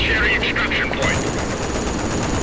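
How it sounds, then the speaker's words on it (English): Gunfire in Rainbow Six Lockdown, a loud rapid burst of automatic shots in the first second followed by ongoing rumbling background noise. "I don't even know where those gunshots came from."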